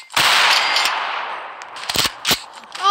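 Sniper rifle gunfire in the Roblox game Superhero Tycoon, with a loud sharp shot that rings out and decays, followed by a few quicker cracking shots, all close and with no talk over it.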